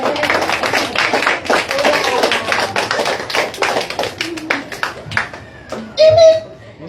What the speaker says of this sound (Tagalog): Kanya po ba kalakas ang palakpak sa Panginoon?